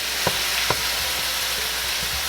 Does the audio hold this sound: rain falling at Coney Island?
no